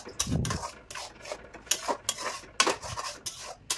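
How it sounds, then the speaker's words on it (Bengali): Spinach and fenugreek greens are stirred in a pan with a metal utensil while palak paneer is cooked, making repeated scraping and clinking strokes in an uneven rhythm, close and moderately quiet. "আমি এখানে শাকগুলো নাড়াচাড়া করব"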